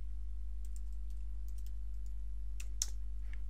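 Keys on a computer keyboard are tapped in short, light clusters while a file is renamed, soft and close over a steady low electrical hum, ending with a few firmer clicks and no talking.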